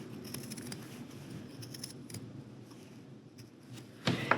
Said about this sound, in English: I can come through with my nice sharp applique scissors. Make sure you're only cutting through your 2 layers